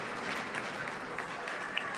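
Crowd applause at a high school hockey game between Conrad and Enfield-Granby, a faint, distant patter of clapping in an ice rink, steady and low with no voices over it.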